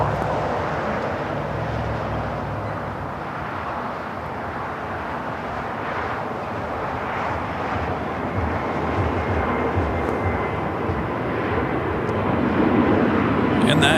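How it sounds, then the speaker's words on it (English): A Lufthansa Boeing 747-8 Intercontinental at Los Angeles airport, its steady jet roar rising slightly over time, with faint voices beneath it. "the 747-8 Intercontinental heading back to Frankfurt, flight 457"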